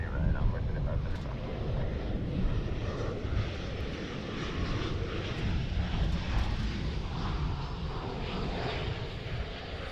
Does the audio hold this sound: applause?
no